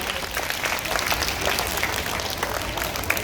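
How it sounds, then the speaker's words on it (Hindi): Dense, continuous clapping from an audience at a Hindi Diwas school program, a busy wash of many hands at fairly even loudness throughout, with no voices over it. "तो मैम के लिए तालियां"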